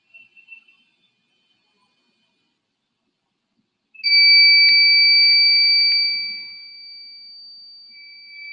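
A robot's buzzer set to maximum level gives a loud, piercing electronic tone that starts abruptly after a brief faint beep and quiet gap, holds steady for a couple of seconds, then drops to a softer sustained tone.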